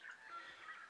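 Faint, continuous bird chirping and calling at a distance, a thin warbling chatter with no voices.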